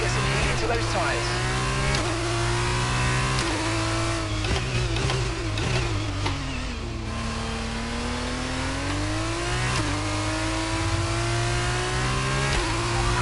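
A race car engine in F1 22 at Bahrain revs and climbs through the gears, a loud, close, continuous whine with rising pitch sweeps and shifts, with a commentator's voice speaking over it.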